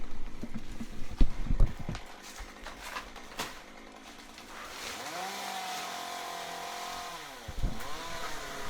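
A chainsaw trimming a palm tree, heard in bursts with revving and idling passages, thuds and cracks of fronds, sounding somewhat distant outdoors.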